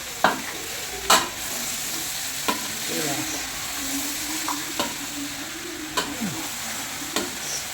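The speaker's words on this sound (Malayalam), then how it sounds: "നല്ല വെളിച്ചെണ്ണ വരുമ്പോൾ നമ്മൾ ഇളക്കി വെച്ചിരുന്ന ഇറച്ചി അതിൽ തട്ടി ഇടുക. എന്നിട്ട് നല്ലതുപോലെ ഇളക്കിയതിന് ശേഷം അടച്ചിടുക." Beef sizzling in coconut oil as it is stirred, a steady close frying crackle broken by repeated scraping strokes and sharp knocks of the spoon against the pan.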